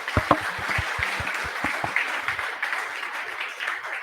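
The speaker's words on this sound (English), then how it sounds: "huge round of applause for Vivek." A tech meetup crowd applauds with steady clapping that starts with a few sharp claps and settles into a sustained, moderately loud wash of applause.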